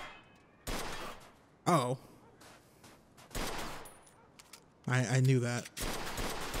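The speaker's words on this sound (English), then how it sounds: "All right, that's enough shooting." Bursts of gunfire in Mafia 2 Definitive Edition, several sharp, loud volleys in irregular spacing with quiet gaps between, and someone speaking briefly between shots.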